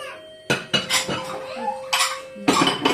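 Dishes and cutlery clatter and clank repeatedly up close as a dishwasher is unloaded, a busy run of ceramic and metal knocks with a steady faint hum underneath.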